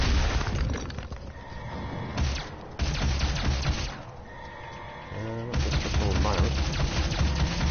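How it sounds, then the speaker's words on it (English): Explosion in the video game Doom, a loud burst of game noise with crashing, shattering debris and booming impacts over a dense soundtrack, with a short quieter dip in the middle. "The explosion."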